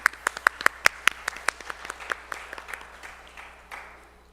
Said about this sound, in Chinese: 弟兄姐妹，我们再一次鼓掌来祝福他们